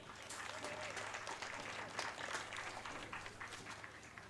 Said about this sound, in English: Let's give a round of applause for Ryan.